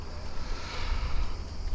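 Mistral wind gusting across an open harbour on a clear day, a steady broadband rush with low buffeting rumble and surf-like hiss throughout, fairly loud and continuous.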